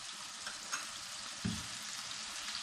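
Eggplant pieces with garlic and soy sauce fry in a pan, giving a steady close hissing sizzle with a soft stirring knock partway through and no voices.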